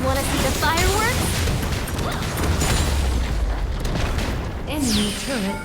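Fireworks bursts in a fast-paced MOBA video game match, booming and popping loudly under dense game music, announcer calls and effects throughout, with a brief rising whistle near the end.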